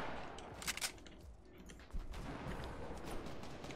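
Minigun fire in a video game shooter, a dense, continuous rattle of rapid shots with a few louder bursts standing out, heard close with no talking.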